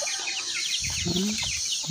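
A mother hen clucks in short, repeated bursts close by while being fed azolla, with a soft murmur of chicks and light background noise.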